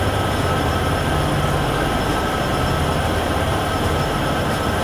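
Heavy Union Pacific grain freight train loaded to the brim in Train Sim World 6, a loud, steady rolling rumble with a low drone and faint wheel clatter, no voices.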